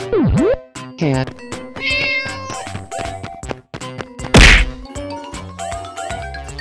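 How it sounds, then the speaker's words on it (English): A cat meows in short, bright calls over music with sharp whacks, dings and jingles, and a loud crash-like burst in the middle. "Cat."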